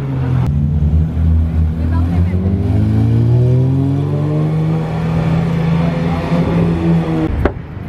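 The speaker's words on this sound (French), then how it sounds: "La S Brabus infernale qui descend, là regardez ça." A Mercedes S-Class tuned by Brabus drives past loudly on a street in Monaco, its engine note rising and falling as it nears and recedes, with crowd noise around it.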